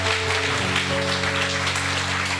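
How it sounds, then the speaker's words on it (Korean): A church congregation applauds in a steady, dense wash of clapping that fills the room, with sustained tones ringing underneath. "다시 한번 하나님께 영광의 박수를 돌리겠습니다"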